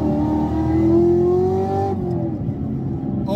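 A Chevrolet Camaro ZL1 accelerates with a loud, close engine whose pitch climbs steadily, then eases off into a lower, quieter run.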